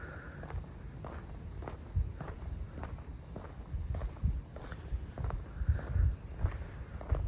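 Steady footsteps on a late night walk through a Tokyo suburb, the even rhythm of shoes on pavement running the whole time over a quiet background hum, with no talk.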